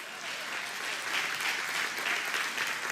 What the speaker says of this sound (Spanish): O dar un aplauso a Dios.